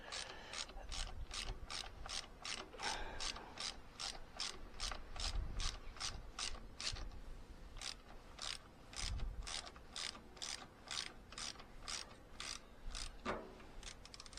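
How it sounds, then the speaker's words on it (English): Rapid, steady ratchet clicks from a hand tool undoing a long 4mm Allen bolt on the fuel tank of a Yamaha MT-09 motorcycle, close and continuous, with a brief pause in the middle. "Moving on to the tank, we just have a little, again, 4mm Allen bolt here."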